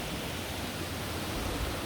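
A waterfall roars as a dense, even, continuous rush of water, loud and close, with no voices.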